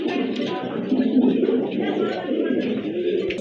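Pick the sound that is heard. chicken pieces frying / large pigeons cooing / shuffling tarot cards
large pigeons cooing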